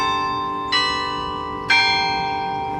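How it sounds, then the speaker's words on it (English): A large church bell strikes twice about a second apart, each tone ringing out richly and lingering over a sustained hum. "I count the sounds of the bell."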